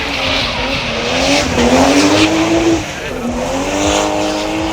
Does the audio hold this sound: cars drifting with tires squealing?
yes